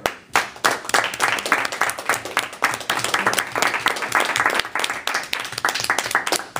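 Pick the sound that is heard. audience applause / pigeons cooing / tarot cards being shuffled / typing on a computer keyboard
audience applause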